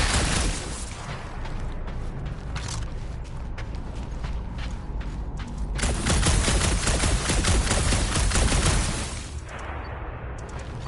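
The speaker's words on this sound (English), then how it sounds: "Just making sure my guns work." Peter Quill test-fires his blasters in the Guardians of the Galaxy video game: rapid bursts of gunfire mixed with mechanical clatter, getting louder and denser midway, then easing off near the end.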